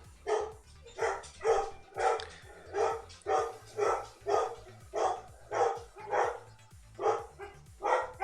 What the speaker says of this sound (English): my dogs are going berserk